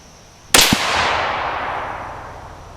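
A single sharp, loud crack from a 22 Creedmoor rifle firing an 80-grain ELD-M load, followed by a long, fading echo tail outdoors.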